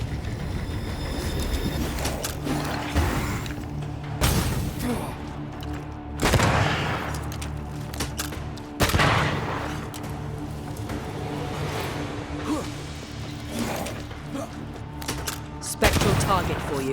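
Gunshots fired at a light in the game Banishers: Ghosts of New Eden, several sharp, loud cracks spaced a few seconds apart over a rumbling, busy ambient background.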